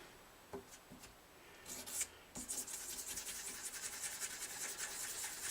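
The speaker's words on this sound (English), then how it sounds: "Rub lightly, rub circular motions." A cloth rubs in circular motions over the finish of a Gibson J40 acoustic guitar during a touch-up repair, making soft scattered strokes at first and then a faint, continuous rhythmic scrubbing close by.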